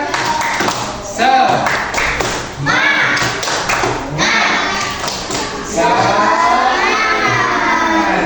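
Schoolchildren in an Indonesian classroom perform a rhythmic 'tepuk semangat' clapping chant, loud and close, with patterned bursts of claps and thumps mixed with the children's chanting voices throughout.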